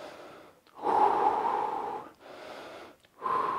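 Heavy, loud breathing during a home fat-loss workout, two long labored breath bursts separated by brief pauses, then a third starting, close to the mic with no talking.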